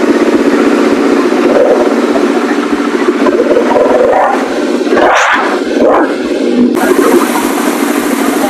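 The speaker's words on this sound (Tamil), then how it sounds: "அதான் ஸ்டார்ட் பண்ற பாருங்க, எக்ஸாஸ்ட் மட்டும் எப்படி ரேட்டு" A 2022 BMW G310 RS motorcycle with about 9,000 km on it, its engine running loudly close by with a rough idle and a brief rising rev from the exhaust, heard alone.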